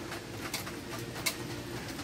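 Pet pigeons in a backyard loft coo softly and steadily at low pitch, with brief wing flutters or rustles over a constant background hum.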